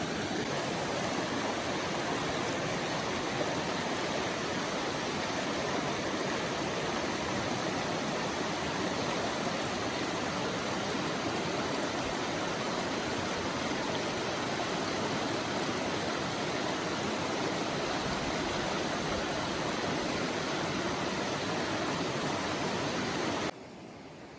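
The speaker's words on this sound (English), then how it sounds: "Crossing this river." A river in spring Montana backcountry rushes steadily while someone wades across it in snowy weather, a loud, unbroken roar of flowing water up close that cuts off abruptly at the end.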